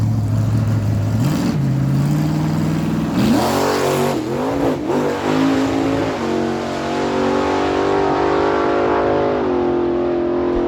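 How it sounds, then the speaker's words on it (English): A Ford F-150 pickup truck revs loudly at a dragway during drag racing, its engine climbing through several gear changes in rising and falling pitch sweeps, close and powerful throughout. "Lyndon Lyons brings up the Ford pickup truck, the F-150, dialed in at 11 seconds"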